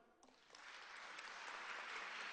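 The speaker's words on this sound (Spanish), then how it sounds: "Un aplauso." Quiet, distant audience applause during a morning news broadcast, starting sparse and swelling into a steady wash of clapping.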